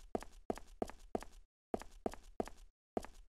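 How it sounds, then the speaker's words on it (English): Footsteps in the horror video game I See You thud close and even in two quick runs of four steps with brief pauses between them, alone in otherwise silent surroundings. "I don't hear anything besides my footsteps,"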